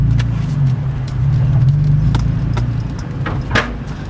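Lowered 2005 Infiniti G35 Coupe with a muffler delete driving, heard from the interior as a steady loud low engine drone with light rattles and clicks over it.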